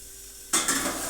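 A spoon stirs a sizzling tempering of curry leaves and red chutney in hot oil in a pan, starting abruptly halfway through with a loud, bright crackle and scraping that holds steady to the end.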